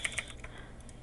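A few quiet keystrokes tap on a computer keyboard in a brief, faint burst while typing HTML code.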